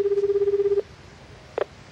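A telephone heard in a 1995 NTT commercial: a steady dial tone hums for under a second, then a short pair of dialing beeps follows after a pause, clear and close with no talking.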